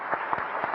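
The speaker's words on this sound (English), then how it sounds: "Please join me in applauding the" Brief burst of audience applause at a Quad foreign ministers' meeting, a short run of scattered claps close together with no voices over it.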